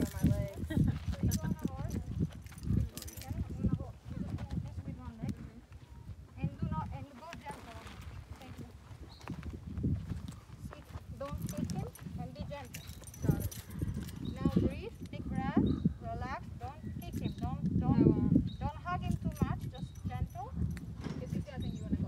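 Horse hooves clip-clop steadily at close range while people talk over them throughout, during a behind-the-scenes outdoor photoshoot with a rider mounting the horse.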